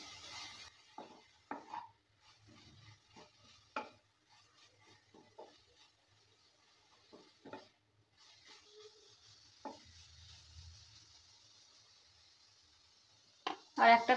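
Bottle gourd peel being mixed with salt, turmeric and chili powder in a pan, giving soft, intermittent scrapes and taps, faint and close, with a few louder knocks near the end.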